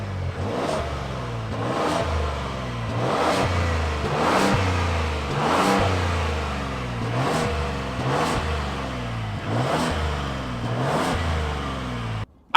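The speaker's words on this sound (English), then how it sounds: "we could not do this drag race without the 2024 Lincoln Navigator. Now, listen to that engine." A 2024 Lincoln Navigator revs its engine in a drag race. Repeated rising revs climb and drop back in a steady rhythm, loud and close, with no talking.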